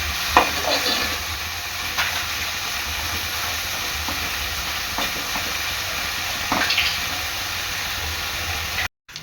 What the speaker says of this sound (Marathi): चांगला मिक्स करून घ्यायचं आहे आपलं हे वाटण आहे ना ते चांगलं याच्यामध्ये कांद्यात शिजवून घ्यायचं आहे